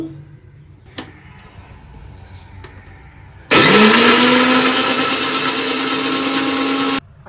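A kitchen mixer grinder grinds neer dosa batter, starting abruptly after a few quiet seconds of faint knocks and then roaring loud and steady for about three and a half seconds before cutting off.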